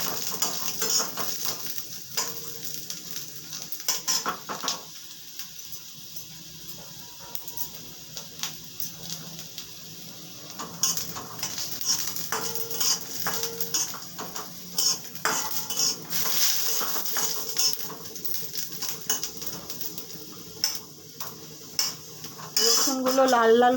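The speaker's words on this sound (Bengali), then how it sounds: "রসুনগুলো লাল লাল করে ভাজা হয়ে গেছে।" Garlic frying in a pan for a garlic tomato chutney, with a utensil scraping and clattering against the pan in irregular bursts over a faint, steady sizzle, close by, with a voice briefly audible.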